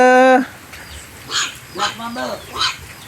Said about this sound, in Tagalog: May anak ng aso mga kababayan.